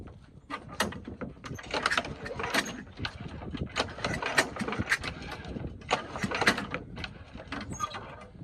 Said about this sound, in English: So now I'm just going to pull the cord and see how it spins.